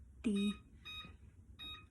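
A kitchen timer beeps in short electronic tones while a 30-minute countdown is set for baking a cake, with one louder beep followed by two softer ones.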